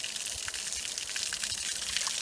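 Water gushing from a pipe into a basin at a wastewater treatment plant in Orșova, a continuous loud rushing splash heard close and steady, with no voices over it.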